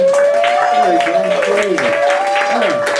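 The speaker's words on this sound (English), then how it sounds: "Round of applause for Robo" A comedy club crowd applauds and cheers as comedian Robo takes the stage, loud, dense clapping over a tonal background sound, with voices mixed in.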